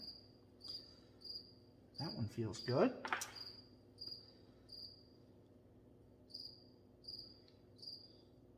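A cricket chirps steadily in a garage, short high trills repeating at regular intervals, fairly close, with someone talking briefly and some handling clatter in the middle.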